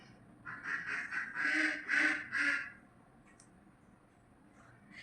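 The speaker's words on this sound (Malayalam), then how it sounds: "അപ്പോൾ ഒന്നെങ്കിൽ താറാവ് അല്ലെങ്കിൽ വേറെ എന്തെങ്കിലുമൊക്കെ ആയിട്ട് എനിക്ക് എപ്പോഴും ഇങ്ങനെ പണി തന്നുകൊണ്ടിരിക്കും." A duck quacks loudly in a quick burst of several harsh, close calls lasting about two seconds, then falls silent against a quiet background.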